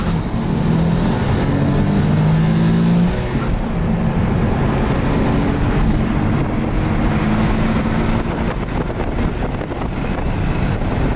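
A Nissan 370Z Nismo fitted with a full Tomei exhaust accelerating hard through the gears from first to fourth, engine roar heavily buffeted by loud wind noise on the microphone.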